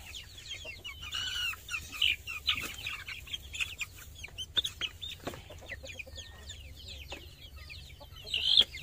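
Many kampung chickens cluck and chirp at once in a busy, continuous farmyard chorus, with a low steady hum underneath.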